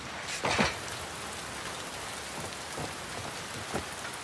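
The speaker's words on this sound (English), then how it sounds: "Oh, it's raining a lot." Heavy rain falls outside in The Last of Us Part II, a constant soft hiss of drops with a few louder spatters, moderately distant and steady throughout.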